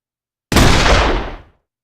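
Layered shotgun blast built for a game, a single loud, close boom after silence with a sharp attack and a roughly one-second decaying tail.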